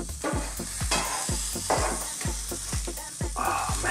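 A four-cheese grilled cheese sandwich sizzles steadily in a hot pan, with a loud continuous fry and a regular series of low thumps about every quarter second, heard alone without any voices.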